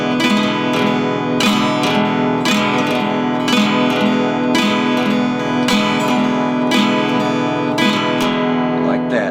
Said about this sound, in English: sometimes you'll hear blues players drag that pick back up to put emphasis on the up